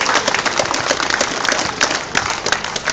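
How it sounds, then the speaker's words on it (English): A crowd gives a warm round of applause for the 1972 East Perth premiership football team, steady dense clapping from many hands filling the room for a few seconds. "Big round of applause for the 72 premiership team."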